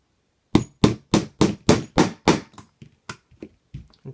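Hammer tapping a roll pin into a Magpul MOE CTR rifle buttstock: about seven crisp, evenly spaced metallic strikes close up, followed by several lighter, quieter taps.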